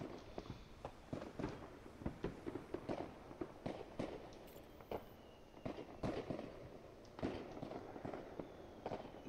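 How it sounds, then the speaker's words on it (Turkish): Fireworks crackle and pop in the video game Potentia, sharp irregular bangs and snaps scattered across the scene, fairly quiet and distant. "Ne kadar çok havai fişek var ya."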